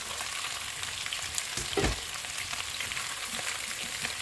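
Garlic sautéing in oil in a pan for chicken adobo, a steady close sizzle with a brief louder burst of crackle midway, no voices.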